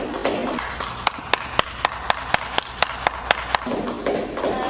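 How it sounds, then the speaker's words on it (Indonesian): Rhythmic clapping at an Indonesian school group presentation, a dozen sharp, evenly spaced claps at a steady beat, close and distinct, set between stretches of softer room noise. "Wow, tepuk tangan dulu ya untuk kita ini."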